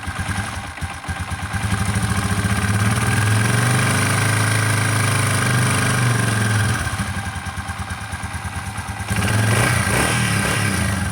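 A motorcycle engine, just restarted after a valve adjustment on the trail, idles and warms up with a steady, close, throbbing putter. It dips slightly partway through, then picks up again near the end.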